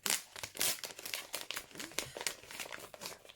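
A black paper envelope being torn open and handled, with close crinkling and ripping bursts in irregular quick rhythm, loud and near.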